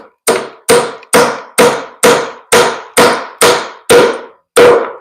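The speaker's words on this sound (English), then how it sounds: "So let's hammer them in place." A hammer drives door hardware into place while installing a bifold door, nine loud, sharp, evenly spaced strikes ringing close up, each blow decaying quickly before the next, with no talking.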